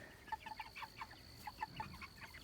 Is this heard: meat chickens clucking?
yes